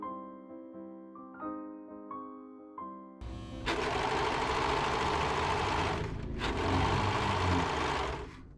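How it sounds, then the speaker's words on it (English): A serger overlocks the raw edges of velvet pocket pieces for a cottagecore dress. It whirs in two steady bursts of about three seconds each, separated by a short pause. Quieter rhythmic clunks and hums come before the stitching starts. "I serged the edges of my pocket pieces."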